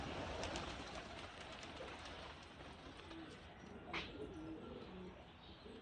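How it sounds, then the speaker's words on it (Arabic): Pigeons coo softly in a low, continuous murmur under a noisy background, fairly faint and steady throughout with no clear talk. "شو الحمام هاي الدايره يا شباب؟"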